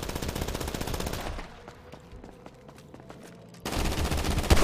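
Rapid machine-gun fire and gunshots ring out in a GTA 5 street shootout, loud bursts at the start and again at the end, with a quieter stretch of scattered distant shots in between.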